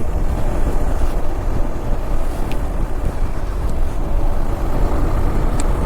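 Loud, constant wind roars and buffets around a vehicle travelling at high speed on the road to Anjanadri, filling the whole stretch with no talking.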